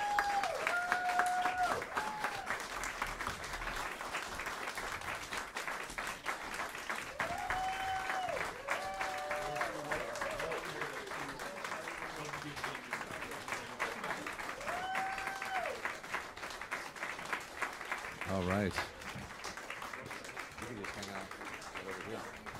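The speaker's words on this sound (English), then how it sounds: "A round of applause for all of our performers tonight." Sustained audience applause fills a jazz recital hall in honour of the performers, steady and dense throughout with whoops and voices rising above it at moments.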